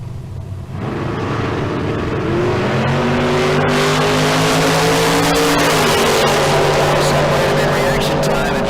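A dragster at Tucson Dragway roars down the strip in a dense, loud engine blast that rises in pitch, with faint announcer talk in the background.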